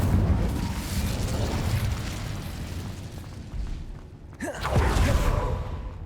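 A blast from the Incendio fire spell in Hogwarts Legacy, a loud sustained roaring rush of flame and rumble that dips briefly, then swells again, with no talking.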